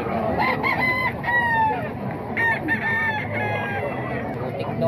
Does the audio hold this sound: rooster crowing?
yes